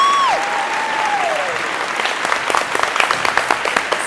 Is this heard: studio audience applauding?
yes